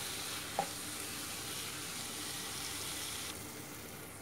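Squid cooks in a pan with half a teaspoon of turmeric, giving a steady, close sizzle throughout with one brief sharp clink near the start.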